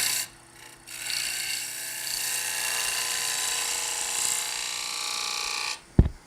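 A wood lathe spins while a gouge shapes a wooden bowl, giving a continuous close rasping, hissing scrape for several seconds that starts after a brief pause and ends with a sharp knock.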